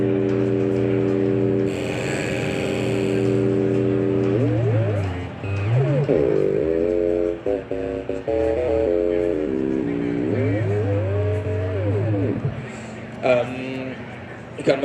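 Arturia MiniBrute 2 synthesizer producing linear FM from its second oscillator with a triangle wave, a sustained buzzy tone with sweeping, bending pitch that rises and falls, loud and close, with a voice talking over parts of it.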